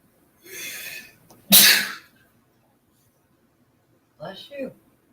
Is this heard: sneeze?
yes